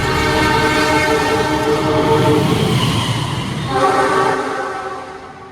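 A train rushes past at full speed on track 1 of an Indonesian rail line, a loud sustained roar with a horn-like tonal blare that swells, holds and then fades away as it recedes.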